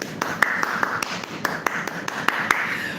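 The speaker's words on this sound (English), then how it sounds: "Please clap for me." A dozen or so sparse, irregular claps from a single person or small group, sharp and close, over a faint background hum.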